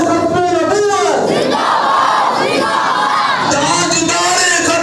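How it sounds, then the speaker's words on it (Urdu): A large crowd at a Muharram religious gathering for the martyrdom of Imam Hussain roars chanted slogan responses in unison, loud, sustained voices rising and falling together. "بلند آواز نہ ذرا نعرے تے جواب دو"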